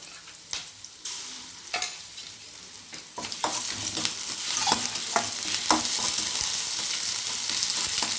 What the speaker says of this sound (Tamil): வெங்காயம் இந்த அளவுக்கு வதங்கினதுக்கப்புறம் இஞ்சி பூண்டு பேஸ்ட் சேர்த்துப்போம்